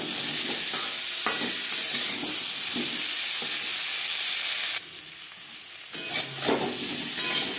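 Boiled potatoes frying in refined oil in a pan over a high-to-medium gas flame for a white alur dum, a steady sizzle with periodic scraping stirs, briefly dropping quieter before the sizzle returns.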